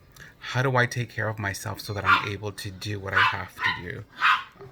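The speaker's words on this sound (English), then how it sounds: "that was my dog" A pet dog barks in a few short bursts, close by, over a person speaking steadily throughout.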